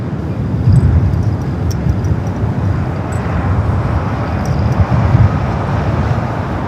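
A Boeing 777 arriving at Los Angeles International Airport, heard as a loud, steady jet roar that swells gently in waves throughout, with no voices.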